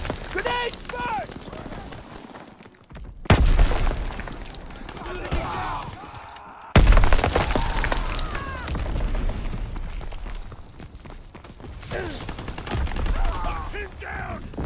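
Call of Duty WWII combat with a grenade blast and gunfire: two sudden heavy booms punch through a busy mix of shouted voices and scattered shots, loud and close.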